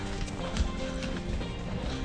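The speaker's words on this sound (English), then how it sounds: "got the nice line going with horses and mules carrying our stuff" A line of horses and mules carrying gear on a backcountry trail clip-clops steadily, hooves striking in a continuous, fairly close walking rhythm amid faint outdoor noise.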